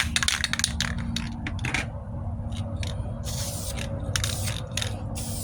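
A spray can lays a light coat of primer on the wheel arch of a 1998 Ford Ranger, heard as short, close hissing bursts in quick succession, then a pause and a few longer sprays.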